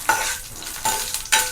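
Dried red chillies and curry leaves fry in oil with a bright, close sizzle, broken by three or four quick stirring scrapes.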